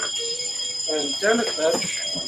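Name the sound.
alarm ringing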